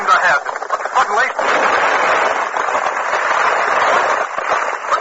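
Explosion effect in a radio drama, bursts of rumbling blast noise mixed in with narration, loud and continuous throughout the short passage.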